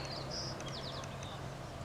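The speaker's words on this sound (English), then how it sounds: "As you can hear, the birds are singing up an absolute riot." Birds sing and chirp outdoors in a spring setting with a deer nearby, thin high calls rising faintly over a steady low background rumble.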